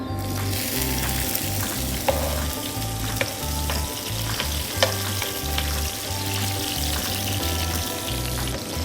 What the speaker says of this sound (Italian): Senti che profumo che viene dalla padella con l'aglio che rosola?